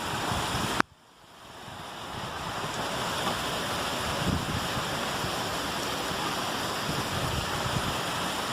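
Floodwater rushing down during a violent storm in Salvador, a steady loud roar of flowing water that follows a sharp knock and brief drop near the start, continuous and close with no talking.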